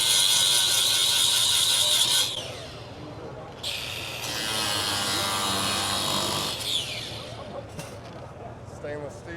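A drill bit grinds into stainless steel in a workshop where a 1500hp BMW M2 is being prepared, high whining bursts of cutting that stop and restart, with people talking nearby.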